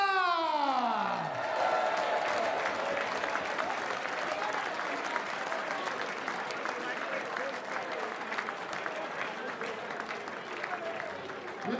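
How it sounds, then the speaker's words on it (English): A large darts championship crowd applauds steadily for a finalist leaving the stage, a dense sustained wash of clapping with a few whoops, after a brief announcer's voice at the start. "a massive round of applause for our finalist as he leaves the stage"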